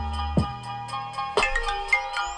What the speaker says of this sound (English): Shout out to my phone ringing in the middle of my live.